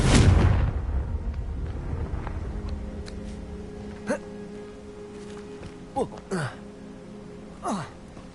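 Incendio and Confringo spells cast in the Hogwarts Legacy video game: a loud fiery whoosh up front, then several sharp blasts with rising whistles and one more near the end, over a steady low ambient hum.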